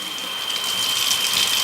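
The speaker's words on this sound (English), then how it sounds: "So let's go ahead and add some fresh water." Tap water running at a kitchen sink into a can holding rinsed chicken, a steady bright hiss and splash that keeps up evenly and close for the whole stretch.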